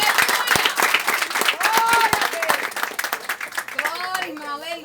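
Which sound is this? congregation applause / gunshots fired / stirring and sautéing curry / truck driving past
congregation applause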